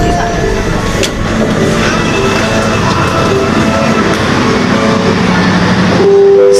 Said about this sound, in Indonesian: Perjalanan kereta api Airlangga saat ini tiba di stasiun Jatibarang.